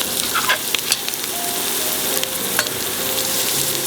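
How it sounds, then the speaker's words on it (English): Finely chopped onions frying in a pot make a dense, continuous sizzle, broken by a few light clinks and scrapes from stirring. "I'm going to add now the onions, finely chopped onions."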